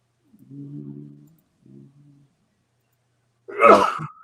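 A single sharp sneeze bursts out near the end, loud and close, after a couple of brief low murmurs.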